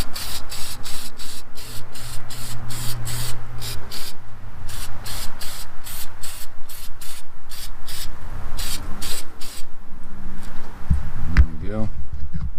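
Car battery terminal protector sprayed in short aerosol hisses onto the battery terminal of a 2015 Toyota RAV4, a rapid run of bursts, then quieter handling sounds and a brief voice at the end.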